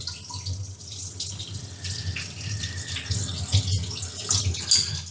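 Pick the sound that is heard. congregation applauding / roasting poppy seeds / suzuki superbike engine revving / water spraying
water spraying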